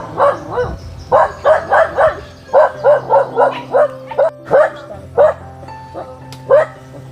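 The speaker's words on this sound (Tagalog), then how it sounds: "Daming aso." Several dogs bark in repeated bursts outside a house in the Philippines, overlapping yips and bow-wows close by, with a person talking briefly in Tagalog between them.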